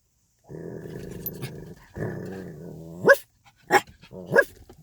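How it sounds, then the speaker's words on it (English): A dog growls in low rumbling stretches and then lets out three sharp, loud barks close by, with no talking. "Somebody get your dog."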